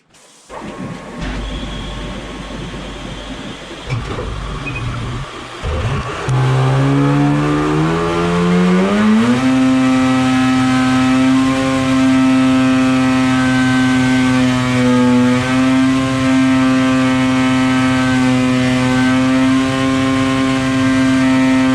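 An 800 E-TEC two-stroke engine runs on a dyno during tuning, revving up from a rough idle into a loud, steady, sustained high-pitched drone that holds for many seconds.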